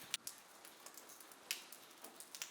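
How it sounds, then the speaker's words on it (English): Rain falls in a quiet village setting, soft scattered drops tapping and dripping irregularly over a faint hiss, gentle and close with no voices. "The rain falls on your shoulders like a blanket."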